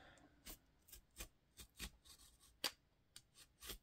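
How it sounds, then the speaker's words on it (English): Scissors snip through the fabric mull on the spine of an old book, about a dozen short, quiet, crisp cuts at an irregular pace, up close, with no voices. "But I have to cut through this mull here."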